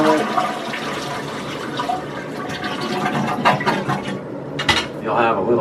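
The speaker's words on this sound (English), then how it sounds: "Flush the toilet." Toilet flushing during a bidet attachment installation, the water valve shut off, a rushing swirl of water that runs steadily and fades as the bowl drains, with someone talking faintly over it.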